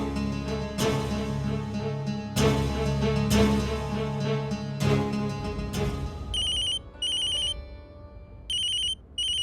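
Telephone ringtone chiming in repeated electronic bursts, the last few seconds breaking into short high beeps with gaps between them, loud and close in a household scene with music-like tones and no talking.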